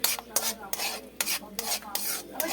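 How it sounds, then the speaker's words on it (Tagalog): Garlic and oyster sauce being stirred in a pan for a bok choy dish, a spatula scraping and rubbing in quick, repeated strokes, close and fairly soft. "ilagay ko na yung oyster sauce, so halu-haluin natin."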